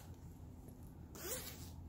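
A side zipper on a 29-inch binder with a stiff insert is pulled in one quick, close zip lasting about a third of a second over a quiet room, with no talking.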